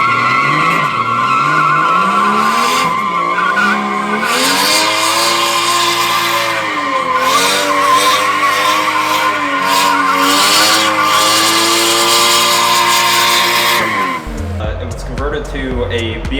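A turbocharged Toyota Chaser JZX100 with an external wastegate and boost controller revs hard while its tires skid and squeal loudly and continuously, engine pitch rising and falling, before the noise drops off near the end.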